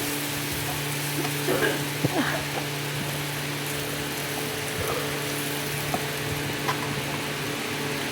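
Spinach greens frying in a wok at home, a steady low sizzle with occasional scrapes and clinks of stirring, faint voice murmurs in the background.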